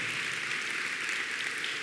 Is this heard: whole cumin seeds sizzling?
no